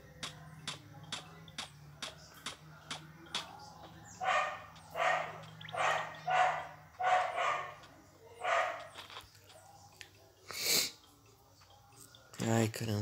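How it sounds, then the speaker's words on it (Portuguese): A dog barks repeatedly nearby during a session of the mobile game Forager, a run of sharp barks followed by louder drawn-out yelps at a steady rhythm, with a person talking over part of it. "Desculpa pelo cachorro aí."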